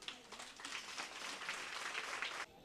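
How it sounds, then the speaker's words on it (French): Audience applause at a women's rights gathering run by an NGO, a steady dense wash of clapping that holds for over two seconds before cutting off abruptly. "Applaudissez pour vous-même."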